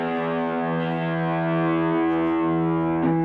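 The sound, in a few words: electric guitar through overdriven amp distortion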